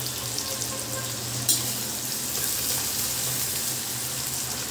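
Half a kilo of boneless chicken frying in a pan, a steady close sizzle with one brief clatter near the start, with no voices.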